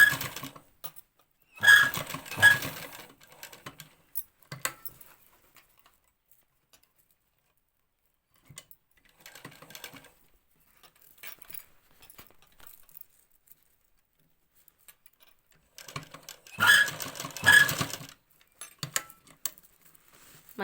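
A stone line sewing machine stitching lace onto a cut-work blouse runs in two short bursts of rapid rattling, separated by long quiet stretches with faint handling noises.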